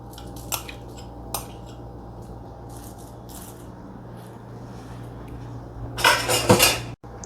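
A spoon or fork scrapes and clinks against a plate while someone eats rice with stir-fried papaya and vegetables, with a few light taps early and a louder cluster of scraping near the end over a low steady hum.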